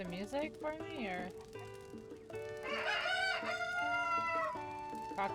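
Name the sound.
rooster crowing in Zelda Tears of the Kingdom video game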